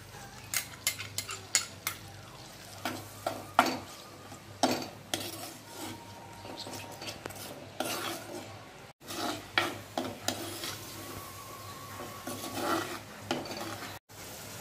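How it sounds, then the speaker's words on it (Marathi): Onion paste being sautéed in a clay pot for a Konkan-style chicken green curry, with a spoon repeatedly scraping and clinking against the pot in close, uneven strokes and no talking. "आपण कांद्याची पेस्ट टाकून चांगली लालसर होईपर्यंत परतून"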